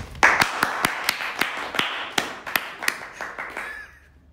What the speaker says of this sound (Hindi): मैम एक बार हम आपके लिए एक जोरदार तालियां बजाना चाहेंगे